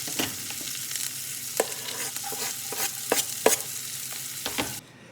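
Garlic sizzles steadily in a pan while it is stirred, with a continuous close frying hiss broken by sharp clicks and scrapes of the utensil against the pan, no voices, ending abruptly.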